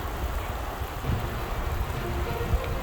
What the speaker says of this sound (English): It's going to rain like this all night, and tomorrow is going to be snowy.